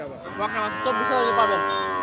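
Calves and cattle at the Satmile cattle market, a close, drawn-out lowing moo that stretches across the whole moment against a busy background.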